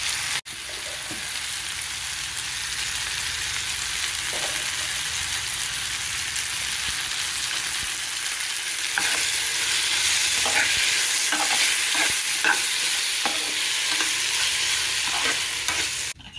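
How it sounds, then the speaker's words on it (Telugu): Ridge gourd pieces with tamarind, garlic and salt fry in a pan, a steady broad sizzle running throughout while a spoon scrapes and stirs in repeated clicks and scuffs, growing busier toward the end. "ముక్కలు బాగా వేగిపోయినాయండి."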